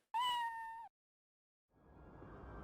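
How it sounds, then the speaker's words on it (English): A single clear, sustained cat meow rings out near the start, followed by silence and then a low hiss of background noise. "Cat noises agree."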